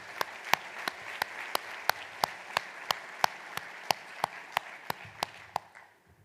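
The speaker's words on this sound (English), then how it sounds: "Let's give them a big round of applause." At an annual meeting, clapping comes as a sparse series of distinct, evenly spaced claps, roughly three per second. It sounds like only a few hands rather than a full crowd and fades out at the end.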